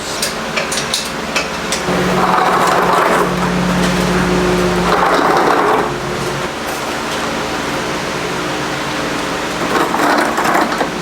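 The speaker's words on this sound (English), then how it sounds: "So I'm jacking it up high enough to get the transmission slid under" A 1995 Ford Econoline 4x4 van with a 7.3 engine is jacked up in a workshop for a transmission install: steady mechanical droning and a held low hum, broken by a few scraping, rattling bursts, with no talk.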